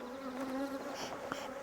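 Honeybees buzzing close around hive splits being assembled, a dense steady hum with a few louder passes near the microphone, no talk.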